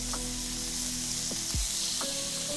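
Food sizzles steadily in a hot pan, a constant crackling hiss with a few faint sliding tones underneath.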